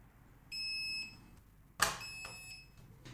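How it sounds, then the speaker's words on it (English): A BOBOVR D2 charging dock for the Oculus Quest 2 gives a steady electronic beep on being plugged in, then a sharp click, then further shorter beeps, all close and clear in a quiet room with no talking. "you'll hear one beep when plugging it in, and there will be an extra beep for each device"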